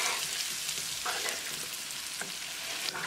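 Jeera potatoes fry in a pan while being stirred, a dense, close sizzle running continuously with a few soft scrapes and taps of the spoon mixing them.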